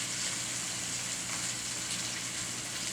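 Food sautéing in a non-stick pan while cooking cinnamon steak: a steady, broad sizzle that holds evenly close by for the full length, with no voices.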